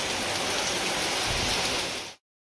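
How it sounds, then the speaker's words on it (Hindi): Heavy rain pours down hard after days of dry weather, a dense steady hiss of drops on surfaces that fills the scene, loud and unbroken, then cuts off abruptly near the end. "अभी भी बारिश हो रही है"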